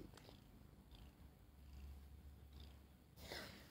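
A silver female cat with blue eyes purring softly and steadily up close, a low continuous rumble with a few faint rustles and a brief louder scuffle near the end.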